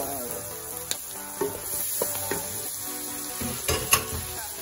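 Butter sizzles in a pan while goat kaldereta is being cooked, a steady low frying hiss punctuated by scattered close clinks and stirring knocks of a utensil against the pan, with no talking.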